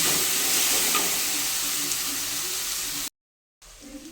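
Ginger garlic paste frying in a pan for a goat blood fry, a dense, even hiss of sizzling oil that cuts out briefly near the end and returns more faintly.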